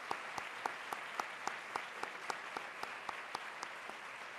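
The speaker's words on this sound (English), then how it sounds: "if we get a round of applause and thank this group" Applause for Red Cross board members at a women's charity gathering, a steady dense patter of many hands with occasional sharper individual claps, sustained and moderately distant.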